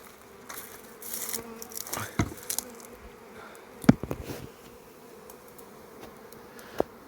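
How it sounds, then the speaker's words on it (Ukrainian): A swarm of bees hanging at an apiary, faint steady buzzing with a few louder insects passing close by in sharp brief bursts, over a quiet outdoor background. "а в нас висить рій"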